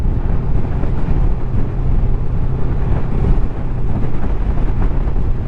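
Heavy wind buffets the rider on a Honda VFR800FE touring motorcycle, a constant low roar with engine rumble underneath, loud and unbroken throughout.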